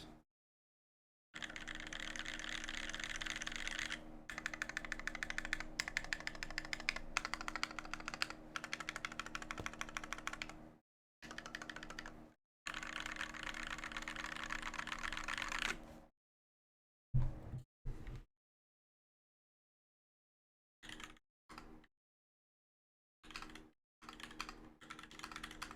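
Someone typing on a computer keyboard, close and clear, in bursts of rapid clicking with several short pauses and a few scattered keystrokes toward the end.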